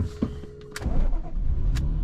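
A flood-damaged BMW Z3 M Coupe with an S54 engine is cranked, giving a short whirring starter sound followed by a rough rumble that settles into a steady low engine note, close by.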